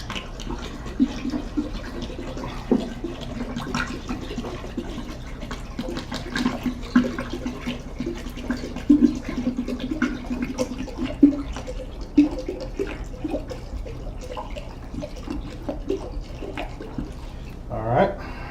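Cold refrigerated water pours into a Mr. Beer plastic fermenting keg for beer brewing, making a steady, close rushing splash that continues for about eighteen seconds and shifts briefly near the end.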